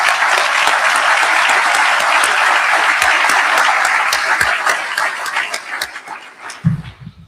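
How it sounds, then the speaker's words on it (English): Sustained applause from a large room audience at a formal defense event, a full steady roar of clapping that tapers off near the end. "let's give everyone who put this incredible event together a round of applause"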